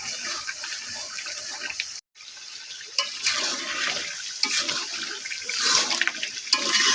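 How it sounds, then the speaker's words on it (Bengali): Water pouring into a pan of frying duck meat curry, a steady splashing, gushing rush that runs through the clip with a brief break near two seconds, close and fairly loud with no talk. "তারপরে ঝোলের পানি দিয়ে দেবো।"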